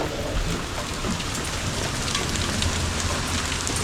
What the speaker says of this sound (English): It started raining pretty heavily